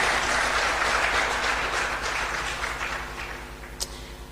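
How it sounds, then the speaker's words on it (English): An audience at a women-in-tech panel session applauds a panelist, a dense, sustained round of clapping that gradually tapers off, with a low steady hum underneath. "Please, a round of applause for her too."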